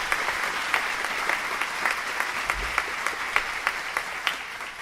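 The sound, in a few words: applause for Reverend Whitaker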